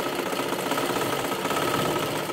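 A sewing machine runs steadily while stitching a dress and salwar, giving a continuous close mechanical whir with a fast, even stitching rhythm throughout.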